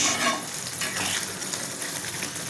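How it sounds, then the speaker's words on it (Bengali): Tomato masala with green chillies bubbling and sizzling in a pan for a fish curry, a close, steady spitting fry with faint stirring. "এবার মোটামুটি ফুটতে শুরু করে দিয়েছে"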